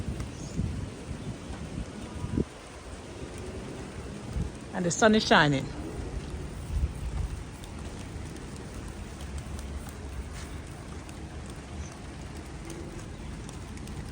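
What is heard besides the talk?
rain falling in the garden while the sun shines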